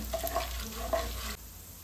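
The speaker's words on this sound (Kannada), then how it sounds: "ಇದು ಅಷ್ಟೇ 2 ಸೆಕೆಂಡು ಎಣ್ಣೆಗೆ ಫ್ರೈ ಮಾಡೋಣ" Mustard seeds and cumin fry in hot oil while a pumpkin palya is being made. A close, steady sizzle with faint crackles lasts for under two seconds.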